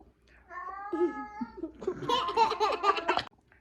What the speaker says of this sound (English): What are you yelling at, Binks?